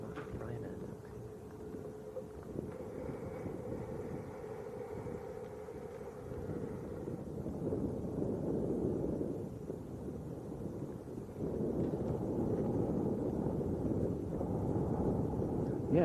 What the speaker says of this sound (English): I can hear an engine winding up